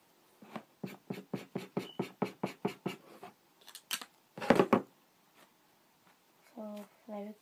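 An orange marker drawn in quick strokes across paper, a run of about a dozen rapid rhythmic scratches followed by a few slower scrapes and handling sounds, close and fairly quiet, with a voice briefly at the end.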